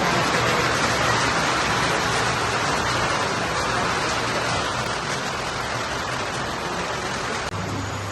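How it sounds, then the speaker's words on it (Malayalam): Rain falls outside in Punjab, a constant broadband hiss with no breaks and no voices. "പുറത്ത് മഴ പെയ്യാൻ തുടങ്ങിയിട്ടോ."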